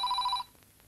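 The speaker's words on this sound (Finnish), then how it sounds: "Yleensähän puhelin soi ja sitten on kaikki taas pielessä." A telephone bell rings loudly for a brief burst with a trilling, warbling tone, then cuts off into a quiet room.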